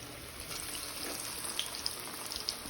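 Faint, steady hiss and fizz of banana flower vadas deep frying in hot oil, with a few small pops and crackles.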